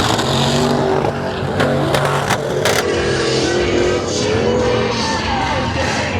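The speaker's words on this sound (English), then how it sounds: "Look at all the drift cars they have back here." Drift cars at the SEMA Show rev and run in a loud, continuous motorsport roar with rising engine tones, brief bursts and crowd noise throughout, while people talk faintly in the background.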